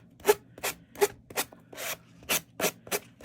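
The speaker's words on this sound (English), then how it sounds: "Just get a sanding block or nail file even maybe." A worn sanding block rasps back and forth along the rough edges of a Dollar Tree item, making close, dry scratchy strokes in a steady, roughly regular rhythm of about eight passes.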